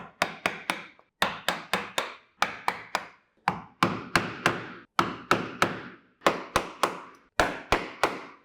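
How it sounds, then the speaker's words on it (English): A chisel is driven by mallet into wood, bevel side down, chopping out waste for hand-cut dovetails: crisp, close, loud strikes in quick bursts of three or four blows with short pauses between, about thirty hits in all, no talking. "I'm just going to chop it out, bevel side down."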